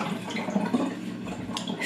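Tomatoes being washed under a running kitchen tap: a short, close splash and trickle of water with small drips, no voices.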